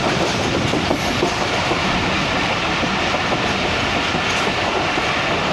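The Rehman Baba Express passenger train runs on the rails between Toba and Gojra, near Janiwala station, a loud continuous roar of wheels with clickety-clack from close inside or beside the train, no voices.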